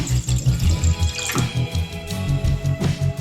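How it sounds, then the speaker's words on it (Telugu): Water, about two glasses' worth, is poured into a pot on the stove for boiling macaroni pasta, giving a close, splashing, burbling flow with rhythmic low gulps throughout. "పాస్తాకి తగినంత వాటర్ అయితే వేసుకోవాలి"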